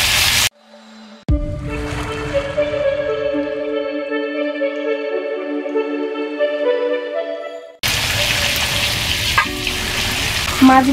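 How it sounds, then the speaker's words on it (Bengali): Shrimp frying lightly in hot oil, a loud close sizzle that cuts to a sustained ringing tone for several seconds before the crackling sizzle resumes. "এবার আমি মাছগুলোকে হালকা করে ভেজে নেবো"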